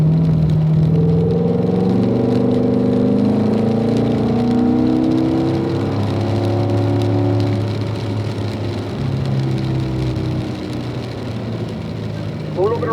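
A car engine on a race track in pouring rain, revving and accelerating with rising and falling pitch sweeps, steady and close, under a voice talking throughout.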